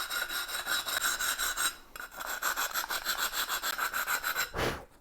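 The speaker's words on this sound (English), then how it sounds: "to finish the cuts off, a tiling file will help you create a nice smooth finish." A tiling file smooths the cut edge of a ceramic tile about 12 millimetres thick, giving loud, close, rhythmic rasping strokes with a brief pause partway through.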